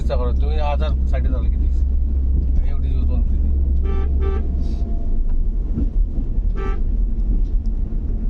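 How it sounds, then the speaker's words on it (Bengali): A vehicle sounds its horn at a bend on a hilly jungle road in Lawachara, giving several short toots over a constant rumbling engine while people talk nearby. "এটা টার্নিং হর্ন"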